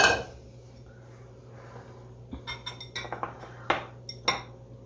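Clatter of a cooking pot being shifted in a home kitchen while baking a raisin cake: a few close metallic clinks and knocks in the second half, over a steady low hum.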